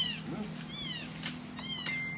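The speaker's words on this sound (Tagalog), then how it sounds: "Oo, yung pusa, mapakan mo." A cat meows several times at close range, short and moderately loud calls spread across a low, steady background hum.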